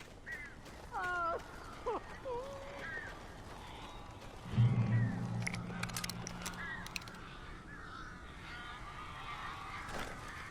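Crows caw a few times in a video game, hoarse calls early on among ambient room sounds, with a louder low thump and scattered clatter midway and no clear talk.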